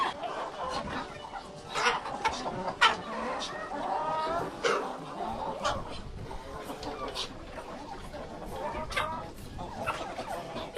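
Hens cluck repeatedly in a snow-covered farmyard in Ukraine after the first snowfall, with busy overlapping calls, some sharper and louder, close by over a low outdoor background.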